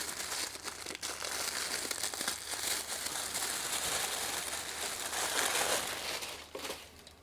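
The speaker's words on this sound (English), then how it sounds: "nice Sakura paper wrap here. Let's open this up." Sakura-patterned paper gift wrap on Starbucks Reserve merchandise is torn open, with continuous close crinkling and crumpling throughout and no talk.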